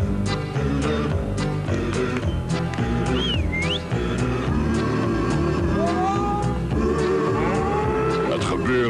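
Cows moo repeatedly in a dairy commercial, with long lowing calls layered over music and whistle-like tones throughout.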